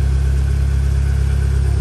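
A BMW engine with its stock exhaust idling, a steady, loud low rumble with an even pulse that holds unchanged throughout, with no voices.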